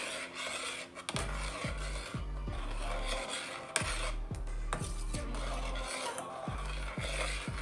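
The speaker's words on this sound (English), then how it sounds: "I'm going to give that a stir." Herbal tea elixir being stirred in a pot, a spoon scraping and tapping against the pot in an irregular, repeated rhythm, close and fairly quiet, with no talking.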